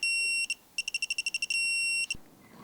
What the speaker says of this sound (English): The alarm's already going off.